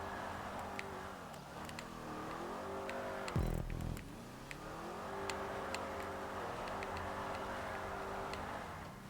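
A Truffade Z-Type engine in GTA 5 Online holds a steady drone that climbs and shifts through revs, with a sharp burst near the middle and faint ticking clicks throughout.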